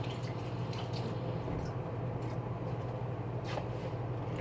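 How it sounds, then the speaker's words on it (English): Tap water runs steadily while hands are washed at a kitchen sink during quick lunch prep, a continuous close hiss and splash with a low hum underneath. "Wash my hands again."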